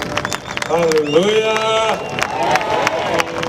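Church congregation clapping and cheering for Jesus at a worship service, a loud crowd din throughout while a voice calls out over it.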